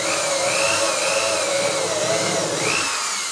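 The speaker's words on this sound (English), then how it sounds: "I'm also going to drill a couple holes" A power drill bores small screw holes into a handmade fly fishing reel part, a continuous close whine whose pitch sags and rises slightly as the bit bites, with no talking.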